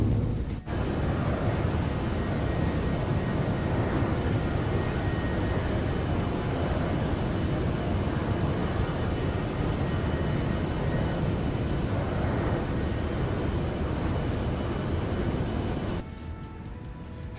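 Boeing 757 engines roar at takeoff power during rotation in a PMDG flight simulator, a steady loud broadband rumble that drops abruptly near the end, with no talking.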